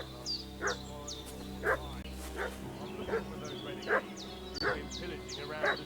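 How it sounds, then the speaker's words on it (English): A dog barks repeatedly in Kingdom Come Deliverance 2, a steady run of roughly eight barks at a moderate distance over ambient game sounds and a rising chirpy tone, with speech present in the scene. "What's that dog making such a fuss about?"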